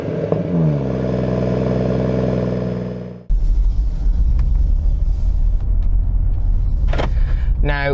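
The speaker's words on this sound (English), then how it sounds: "the 3-litre 6-cylinder twin-scroll turbocharged B58 engine which sits under the bonnet, and boy, does it sound good" A BMW M140i with its 3-litre twin-scroll turbocharged B58 straight-six, revving loudly in a steady harmonic drone, then cutting off abruptly into a rougher, rumbling idle with clatter and a brief rising whine near the end.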